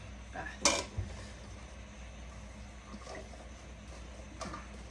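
A utensil stirs pumpkin curry with squash and egg clusters in a pot, giving a sharp clink near the start and then soft scraping and scattered clatter at low level.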